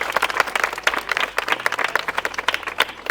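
Audience of students on a campus gives a girl a round of applause, lively clapping with distinct individual claps standing out throughout, moderately loud.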